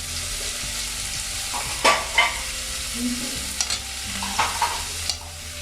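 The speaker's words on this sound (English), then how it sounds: "Now you stir it again, the mixture." Vegetable patty mixture with chopped green chili, curry leaves and coriander being stirred in a pan, several distinct scraping strokes over a steady background sizzle, close by and without talk.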